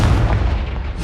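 A Confringo spell explodes in the Hogwarts Legacy video game as a loud, deep booming burst that rolls on in a sustained low rumble, with no talking.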